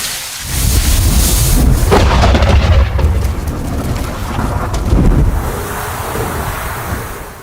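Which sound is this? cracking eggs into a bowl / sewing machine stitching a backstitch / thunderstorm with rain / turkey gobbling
thunderstorm with rain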